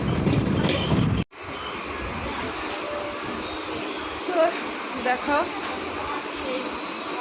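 A Bengal local passenger train runs on rails near Palpara and Chakdaha station, heard from inside as a steady rumble with a brief drop, a few clicks and faint squeals, while a person speaks briefly.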